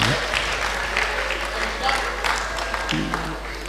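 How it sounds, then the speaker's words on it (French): A church congregation at a Wednesday worship service applauds, a close wash of clapping running under a speaking voice and other room sounds. "Applaudissez sans jalousie."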